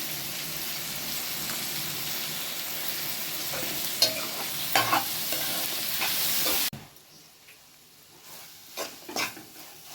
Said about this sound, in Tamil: தக்காளி வெங்காயம் வதங்கிறதுக்கு உப்பு போட்டுக்கலாம்